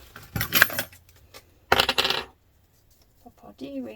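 Metal D-rings for a bag strap clink and jingle as they are handled, two short bright bursts of rattling close by, separated by a pause, with a faint rustle at the end.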